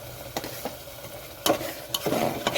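Mutton liver frying in a pan with salt, Kashmiri chili powder and turmeric, sizzling steadily while a spatula scrapes and stirs in several bursts, close and clear.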